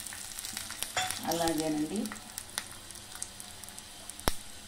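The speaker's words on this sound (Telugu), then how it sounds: "నెయ్యి కరిగిందండి, నేను ఆవాలు వేస్తున్నానండి." Mustard seeds dropped into melted ghee for a tempering, giving a crackling sizzle with scattered sharp pops and a sharper crack near the end, quiet and close, while a voice speaks briefly in the middle.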